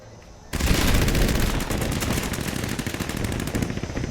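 Rapid rifle gunfire in the video game Fallout 76, a loud sustained burst of closely spaced shots rattling for several seconds after a quiet start.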